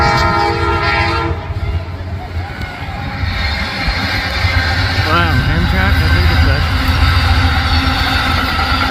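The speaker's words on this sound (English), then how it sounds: "Amtrak. That was a passenger train, I think." An Amtrak passenger train passes near a lock on the Erie Canal, sounding its horn in loud sustained blasts, with rumbling wheels and a voice talking partway through.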